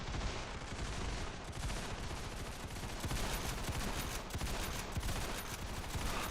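Rapid, dense gunfire from a Winchester Model 1895 rifle and surrounding weapons in the video game Ravenfield, a continuous loud barrage of overlapping shots and battle noise with no pauses.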